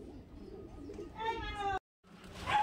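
Giribaz pigeons coo in low, murmuring calls while someone talks over them nearby, the birds faint and partly masked, with a brief silent gap before the sound resumes.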